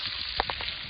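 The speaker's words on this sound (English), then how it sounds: "You can hear it just sizzling in this pan." Tilapia frying in a pan for fish tacos, a faint, brief sizzle with a few soft crackling pops.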